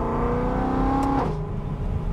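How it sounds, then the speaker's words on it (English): A BMW E93 M3 convertible's tuned V8 revs up close by, its rising pitch climbing for about a second before dropping off sharply, then settling into a lower rumble, with no speech. "I like the sound, and it's one of the best sounding engines of all time"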